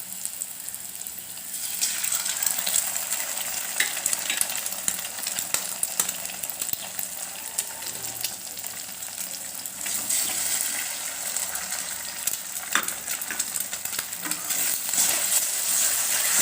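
Eggs frying with chopped onion and tomato in a pan, a steady broadband sizzle with occasional stirring scrapes, close and fairly loud throughout with no talking.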